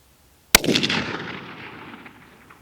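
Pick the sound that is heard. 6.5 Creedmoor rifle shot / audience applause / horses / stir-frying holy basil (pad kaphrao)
6.5 Creedmoor rifle shot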